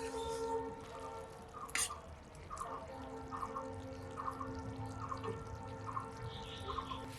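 Thick small borli fish curry with tomato, onion and vegetable stalks is poured out, giving faint soft drips and wet plops that repeat irregularly over a low background hum.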